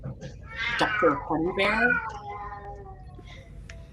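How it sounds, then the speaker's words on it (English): A cat meows a few times up close, its rising and falling cries overlapping with a person's voice talking in a room. "Is that the cat?"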